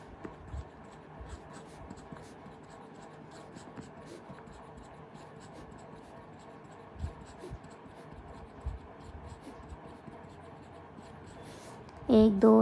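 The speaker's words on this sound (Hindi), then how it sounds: "अब 22 को 7 टाइम्स लिखना है आपको।" Numbers being written by hand on paper for a class 7 maths integers lesson, with faint, close scratchy pen strokes in a quiet room and a burst of louder noise at the end.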